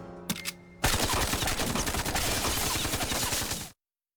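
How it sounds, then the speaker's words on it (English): A cartoon machine gun hidden in the Penguin's umbrella fires a rapid, loud burst of shots that runs for about three seconds and then cuts to silence, following a few brief clicks at the start. "he gets to have a machine gun hidden in one"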